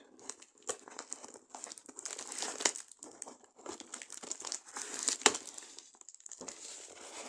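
Packing paper inside a delivery box for a phone and tablet unboxing, crinkling and rustling up close in a continuous stream of sharp crackles and rustles, with no talk over it.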